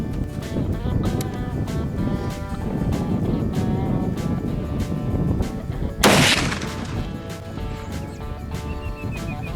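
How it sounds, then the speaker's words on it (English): A single sharp, loud report from a .50 caliber muzzleloader rifle, a CVA or TC, fired outdoors at a target. It cuts through a steady rumbling background, with a short decay afterward. "I'm gonna shoot both guns again"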